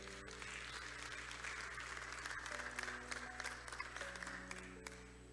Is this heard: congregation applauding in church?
yes